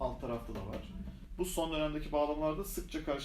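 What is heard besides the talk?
No distinct noise like a dog, phone or traffic.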